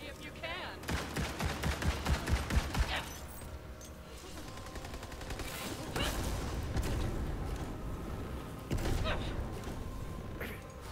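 Shotgun blasts in a chaotic video game firefight, with a run of repeated heavy shots up front, then further bangs and mechanical clatter spread through the rest.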